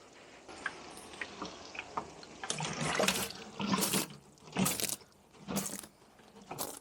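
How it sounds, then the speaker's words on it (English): Water from a watering can splashes onto plants in a restored garden growing patch, a soft steady trickle broken by several louder splashing bursts, close by with no talk. "Just give it a bit of water,"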